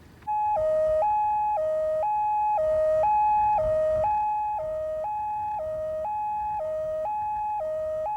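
An ambulance siren wails in a steady two-tone pattern, alternating high and low notes about once a second, loud and close throughout with no talking, while the vehicle carries a patient.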